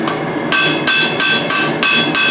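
A hammer strikes a rivet on blacksmith tongs, struck fairly cold, in a regular series of about seven loud, ringing metallic blows close at hand with no voices.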